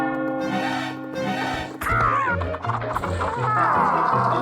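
Chickens clucking in a video game, a steady run of squawks and clucks with a couple of higher calls, alongside thumping game sounds and no talk.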